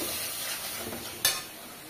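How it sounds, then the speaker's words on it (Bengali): Sour yogurt (curd) whisked in a bowl while cooking goat meat curry, a soft continuous stirring swish with a brief sharper clink of utensil against bowl near the end, close and fairly quiet. "আমি একটু টক দইটা ফেটিয়ে নিই"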